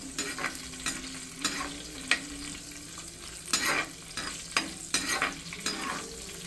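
Curry leaves frying in oil for a fish curry crackle and sizzle up close, broken by repeated sharp stirring scrapes and spatters.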